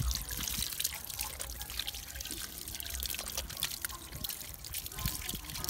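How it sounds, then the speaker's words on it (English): Water running steadily from a tap while hands are washed on a farm in Jamaica, a loud continuous splash and hiss throughout. "Turn on the pipe for me and then let me wash the color."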